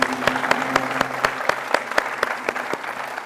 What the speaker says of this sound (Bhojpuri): ताली बजाओ जाए